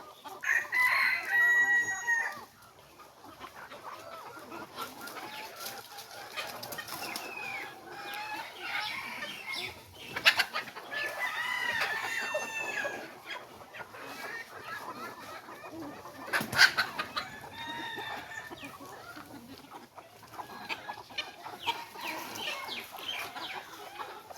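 Free-range native chickens cluck and chatter continuously nearby while eating rice, with a rooster crowing at the start and occasional louder squawks over a quiet outdoor background.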